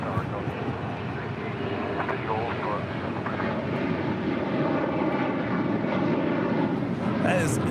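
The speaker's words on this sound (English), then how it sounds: "That is JetBlue Airways in the I Love New York livery, coming from Charleston, flight 2217" A JetBlue Airways airliner in I Love New York livery, Charleston flight 2217, lands at LAX, its engines producing a steady broad roar that holds throughout and swells slightly near the end, with faint voices underneath.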